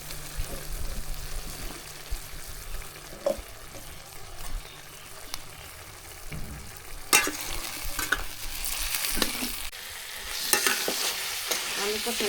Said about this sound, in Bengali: ওই আলুগুলো আগে আমি কষাবো সুন্দর করে